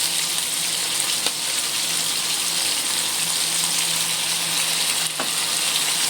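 Chicken sizzling steadily in a hot pan with dark soy sauce, oyster sauce and salt, a dense continuous frying hiss at close range with a couple of brief sharp clicks, no voices.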